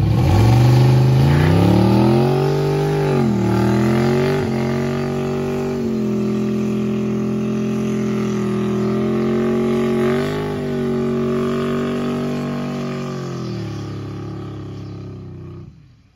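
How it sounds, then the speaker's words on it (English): A red 1965 Oldsmobile Cutlass 442 V8 runs loud and close, revving up at the start, then settling into a steady rumbling idle with a brief blip before fading slightly at the end. "Up for sale is a beautiful red 1965 Oldsmobile 442 that runs absolutely fantastic."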